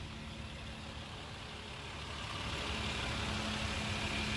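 A 2011 Acura MDX Tech sits with its engine idling, a steady low rumble with a faint tonal hum that holds evenly and grows slightly louder toward the end, with no talk over it.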